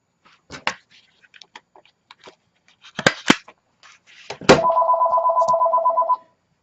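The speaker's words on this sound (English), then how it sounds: "Figures my phone would go off." A phone rings with a steady electronic trill lasting over a second, loud and close, after scattered clicks and rustling from paper crafting work on a junk journal.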